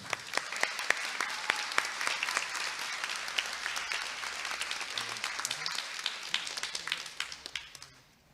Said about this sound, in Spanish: quiero que ustedes mismos se regalen un aplauso